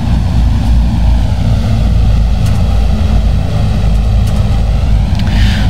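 A DHC-6 Twin Otter on approach gives a loud, constant engine and propeller drone heard from inside the cabin, steady throughout with no talking.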